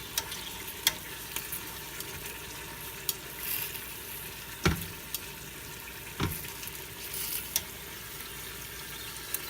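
Onions and garlic frying over high heat for a tomato sauce, a steady low sizzle with occasional sharp clicks and scrapes of stirring, no voices.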